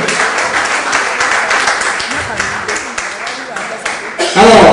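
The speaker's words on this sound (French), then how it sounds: "On applaudit Dressing" Audience applause at a film premiere in Chicago, steady clapping with voices and light laughter mixed in, ending in a louder swell of cheering near the close.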